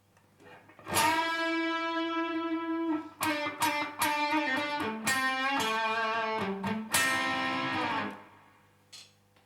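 Electric guitar solo lick with bends and slides through an effects unit, starting with a long sustained bent note, then a run of quick picked notes gliding between pitches, ending in another held bend, close and clear.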